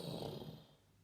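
A storytelling voice imitates a mum snoring at a damp campsite, giving one soft, nasal snore that fades out quietly over about a second.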